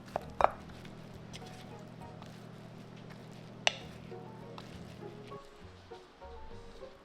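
A knife thinly slicing kimbap ingredients on a cutting board gives a couple of sharp, isolated taps over a low steady hum, quiet and close with no voices.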